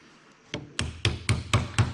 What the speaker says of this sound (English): this is just like the weight of the hammer dropping down onto it